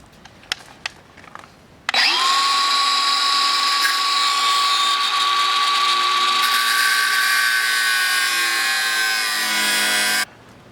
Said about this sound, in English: So after cutting a slot into the side of the bearing